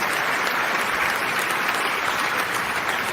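Dense, continuous audience applause fills the space, loud and steady with no breaks, a wide wash of many hands clapping at once.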